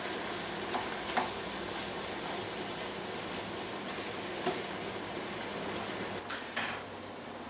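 Minced beef sizzles steadily in a hot pan as onions and mushrooms are gently stirred in, a continuous close frying hiss with a few soft scraping clicks from the spoon.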